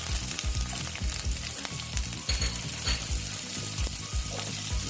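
Green chillies hit hot oil for an achari bitter gourd dish, giving a dense, crackling sizzle with rhythmic stirring and pulsing low bubbling close by.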